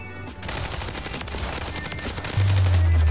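Rapid, continuous machine gun fire in the first-person shooter Call of Duty: Modern Warfare 3, loud and steady throughout with a heavy low thump building near the end.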